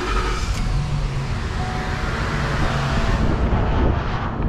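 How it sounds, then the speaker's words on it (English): A 2012 Ford Expedition 4x4 with the 5.4-liter 3-valve engine, heard as a loud, steady idle close to the microphone with some wind noise. "Starting the engine."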